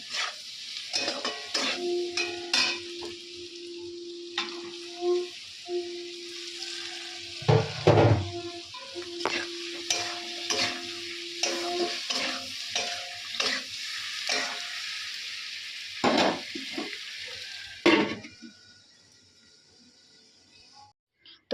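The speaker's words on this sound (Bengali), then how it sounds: "মশলাগুলো দিয়ে দিয়েছি দিয়ে একটু কষবো তো" Spices sauté and get stirred in a pan for a Bengali home dish: a low continuous sizzle broken by repeated scraping strokes and sharp spoon clinks against the pan, near and busy, fading out at the end.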